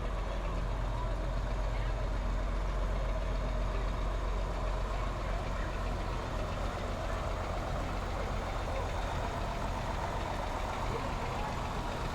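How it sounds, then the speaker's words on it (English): A John Deere tractor engine rumbles at a farmers' day parade, a low, steady idling drone that carries at moderate distance under faint crowd and ambient noise. "John Deere tractor pulling Hill Farms."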